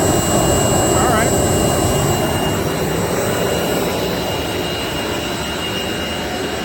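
A 7.5 HP three-phase regenerative ring blower driven by a 10 HP VFD roars loud and steady at close range, a dense broadband whoosh with a high whine that eases slightly toward the end.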